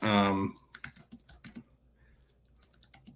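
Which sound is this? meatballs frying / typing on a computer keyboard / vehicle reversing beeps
typing on a computer keyboard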